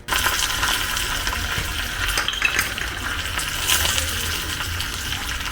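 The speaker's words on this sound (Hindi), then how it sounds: "इसी के साथ मैं अपने दाल में और आरव के दाल में मैं तड़का दे दूँगी" Tadka tempering for dal sizzles hot in the pan, a steady crackling hiss with small pops and spikes, close and continuous without talk.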